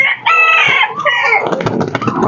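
A Serama rooster, a show bird, crows once loudly and up close, a bright drawn-out call that breaks into a rougher, noisier ending.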